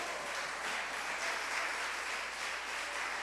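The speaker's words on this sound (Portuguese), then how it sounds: "Vamos aplaudir a Jesus." A church congregation applauds in a steady, even wash of clapping that holds at a fairly soft level throughout, with no voices standing out.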